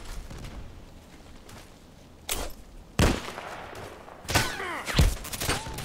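SVU-AS automatic sniper rifle fire in the shooter Contract Wars, a handful of sharp, loud single cracks spaced a second or so apart over a quiet background with faint movement.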